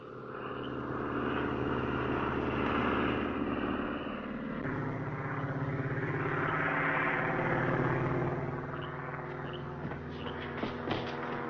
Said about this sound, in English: Here's one of our planes making a landing now.